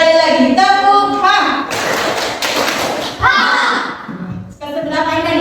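Primary school class doing a 'tepuk H' clap routine: chanted children's voices alternate with loud, close bursts of group clapping and thudding in a steady rhythm.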